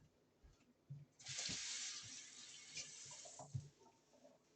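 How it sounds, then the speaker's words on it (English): Tap water runs steadily into a sink as someone washes their hands in a home kitchen, beginning abruptly and continuing loud and close for a few seconds, with light handling knocks and splashes mixed in. "Go wash my hands."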